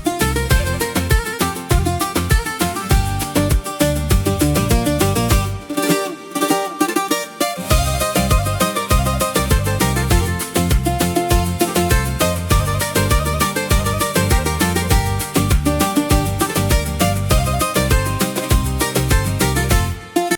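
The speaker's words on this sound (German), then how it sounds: "Ihr habt da original griechische Musik." Upbeat Greek music with plucked strings and a steady rhythm plays continuously at moderate volume at Kallithea Springs, Rhodes, a brief dip in the low end midway, no voices.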